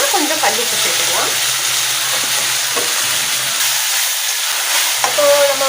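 Tomatoes with rock salt frying for Karaikudi mutton kuzhambu, a loud continuous sizzle with stirring scrapes and a low hum running underneath.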